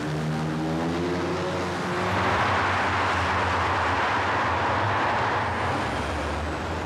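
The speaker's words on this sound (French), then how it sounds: "Au petit matin, la circulation peut reprendre." Early-morning traffic on the Paris périphérique ring road: a steady roar of passing cars and trucks, with a low engine drone and a few fading harmonic tones, continuous and fairly loud with no voices.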